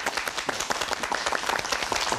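Studio audience applauding to welcome a professor onto a Korean talk-show set, a dense, steady patter of many hands that fills the short stretch without letting up.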